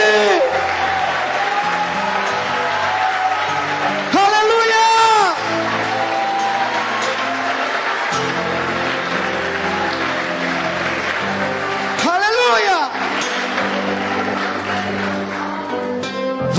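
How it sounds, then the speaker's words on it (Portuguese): Sustained applause from a large church congregation, with a few loud voices shouting over it and bursts of rising cheers. "Forte aplauso a Ele, grito de liberdade."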